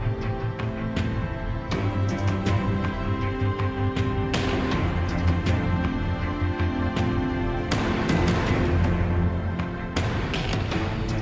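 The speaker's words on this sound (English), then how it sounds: "today's backtrack is done with Symphonic Destruction and Damage 2" An orchestral backing track built with the Symphonic Destruction and Damage 2 library plays loud and alone, with sustained strings and brass, heavy percussive hits and booming accents recurring every couple of seconds.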